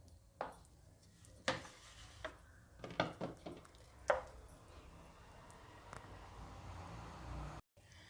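A cooked mixture of milk, sugar and wheat flour is spooned into a mixer jar, giving scattered quiet clinks, taps and scrapes of a utensil against the vessel.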